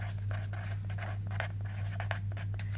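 Pen scratching across paper while a maths solution is written out, a steady run of short strokes and taps, close and quiet over a constant low electrical hum, with no talking.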